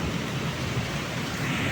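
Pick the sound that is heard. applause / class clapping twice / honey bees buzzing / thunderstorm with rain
thunderstorm with rain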